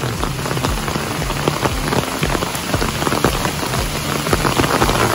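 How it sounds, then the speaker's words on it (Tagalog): Heavy rain pours down steadily, a dense, loud hiss of drops drumming on surfaces with no pauses, close and enveloping. "Ang lakas ng ulan."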